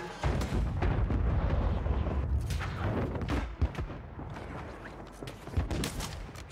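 Repeated heavy sniper rifle shots in a custom-lobby shooter game where every player uses only sniper rifles, loud booming reports with rolling echoes over dense battle noise, several sharp cracks standing out.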